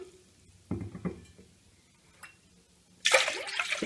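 Water splashes into a thick-bottomed pot in a home kitchen, two short pours early on and a louder gushing pour at the end, separated by quiet moments.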